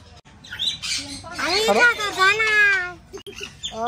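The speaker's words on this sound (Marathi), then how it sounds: "तो मोठा पोपट त्याच्यावर जाऊन बसला." A large pet parrot squawks close by in a home, giving a long raspy harmonic call that rises and falls, followed by shorter bursts.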